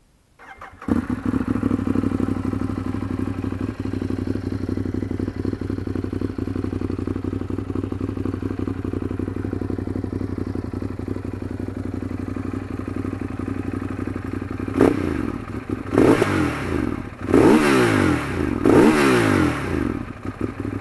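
A red 2015 Ducati Monster 821 on completely original exhausts idles steadily at close range, then gets several sharp throttle blips near the end, each a loud rising roar that falls back to idle.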